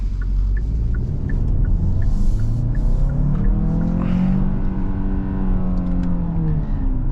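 A 2022 Hyundai Santa Fe with an 8-speed automatic accelerating, heard from inside the cabin as a loud steady engine rumble that rises in pitch through the gear, with no talking.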